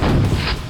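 A brief, heavy booming blast from a grenade explosion in Quake, loud and dense, filling the whole short moment.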